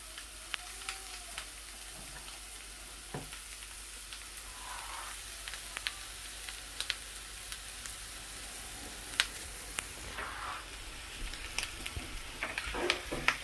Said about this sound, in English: Get the mushrooms cooking down in that